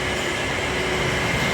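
A loud, steady rumble of a train at Vaniyambadi railway station, with constant mechanical noise and a faint hum, as if heard up close on a platform.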